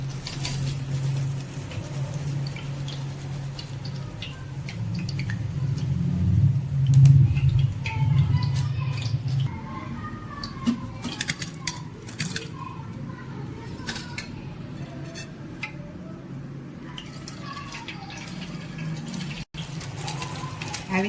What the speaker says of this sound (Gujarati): ગોલ્ડન બ્રાઉન કલર થાય ને ત્યાં સુધી આ વડાને આપણે તળતા રહેશું.